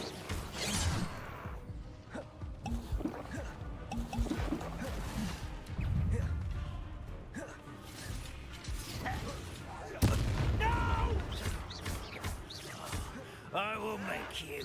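Incendio fire spell cast during a Hogwarts Legacy battle: bursts of fiery blasts and crashes over a busy game soundtrack, with booming impacts around the middle and end, alongside talk.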